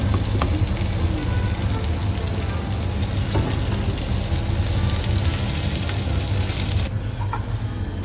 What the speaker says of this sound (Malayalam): വെന്ത് വരുന്നുണ്ട് കേട്ടോ മീന്